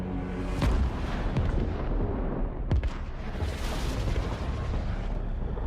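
Explosions and heavy battlefield blasts in a Warhammer 40,000 fan film, a continuous loud rumble of warfare with sharp booming bursts near the start and again around the middle.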